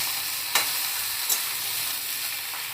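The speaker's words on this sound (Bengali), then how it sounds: "তো সবজিগুলো আমি একবারে ঢেলে দিলাম। এবার একটু ভালো করে নাড়াচাড়া করে নিই।" Mixed vegetables with garlic stir-fried in a hot wok give a continuous loud sizzle, with two sharp scraping strokes of the spatula standing out above the frying hiss.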